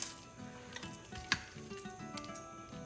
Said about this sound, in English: let me go ahead and fry a couple of them